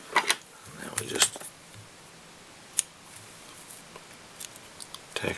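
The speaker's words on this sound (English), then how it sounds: "take our scissors, and that'll allow us" Scissors snip fly-tying material on a Golden Olive Munker variant fly, a few sharp, close clicks scattered across a quiet workbench.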